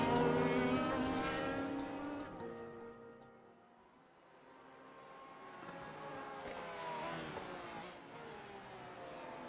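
Porsche race cars in a sim racing game on the Detroit street course: engine notes rising and falling as cars pass, loud at first, fading mid-clip, then returning with rising revs.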